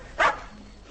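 One short, sharp bark from a dog, close and fairly loud, followed by quiet room noise.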